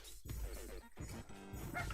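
Dogs in a Roblox video game bark in quick, faint yips, several short barks in a row at low volume.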